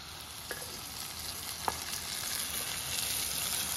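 Chile sauce poured over pork and softened onion sizzles in a hot pan, a steady close hiss with a couple of faint clinks and no talking.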